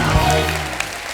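A studio audience applauding a Nigerian Afrobeat singer's arrival on a comedy talk show, dense clapping and cheers at a loud, steady level under a host's voice.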